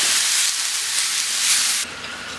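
Chopped onion sizzles loudly in a pan over medium-high heat, a dense close hiss that drops suddenly to a softer level near the end.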